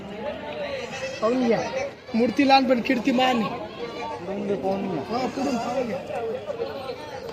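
Goats, including Kathiyawadi and Osmanabadi breeds, bleat repeatedly at a crowded goat market in Chalisgaon. The calls are partly masked by someone talking loudly nearby and by crowd chatter.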